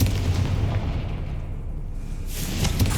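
A Confringo fire spell blasts in Hogwarts Legacy, with a dense, rumbling explosive burst at the start that fades, then a second booming blast near the end, loud and close, with no voices.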